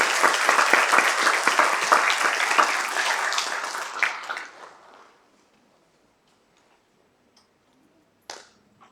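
Audience applause at an international law seminar, dense clapping that fades out over about five seconds, then near silence with a brief clatter at the end.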